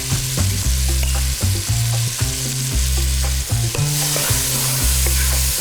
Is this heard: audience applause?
no